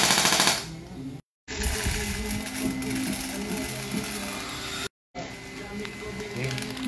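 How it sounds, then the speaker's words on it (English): Rapid automatic fire from an M4A1 carbine, a dense, sustained rattle of shots that cuts out twice for brief gaps before resuming at steady volume. "Rapid fire."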